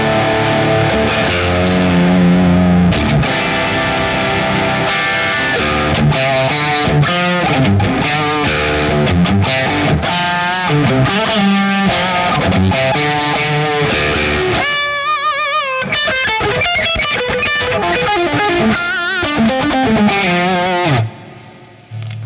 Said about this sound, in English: Even with all that gain, you can hear the single coils are letting you know that they're here.